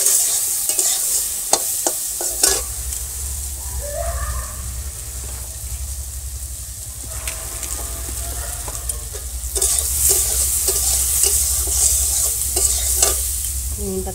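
Brinjal with salt and turmeric, joined by neem leaves, fries in oil in a village kitchen on a rainy day, giving a loud, continuous sizzle with repeated scraping stirs and clatters of the spatula against the pan throughout.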